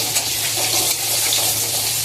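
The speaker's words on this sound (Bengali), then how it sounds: "এই আলুটা একটু ভেজে নিচ্ছি" Potatoes fry in hot oil for crab curry with a loud, continuous close-up sizzle, a steady crackling hiss with no pauses and no talking.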